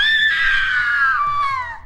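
A person screams as if falling off a skyscraper, one long loud high-pitched wail that slowly drops in pitch and trails off near the end.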